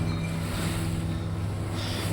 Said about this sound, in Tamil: அப்பா தான் மிஷின் ஓட்டிகிட்டு இருக்காங்க